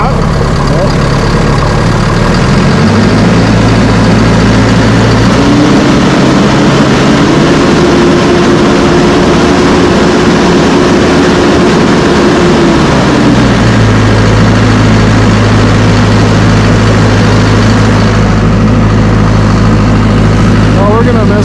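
An engine idles loudly and steadily, then revs up to a higher held pitch for several seconds before settling back to idle, with people talking over it at times.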